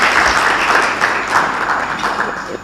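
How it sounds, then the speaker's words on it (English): Audience applause for the Technical Working Group at a national political-party manifesto launch in Kenya, a steady broadband wash of clapping that holds across the whole stretch and eases slightly toward the end. "please clap for them"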